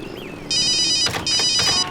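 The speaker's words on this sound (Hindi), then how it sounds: "ओह नो, मॉम का ही फोन है।" A telephone ringing with a bright electronic trill in two rapid bursts, close and loud over a quiet room with a faint tone beforehand.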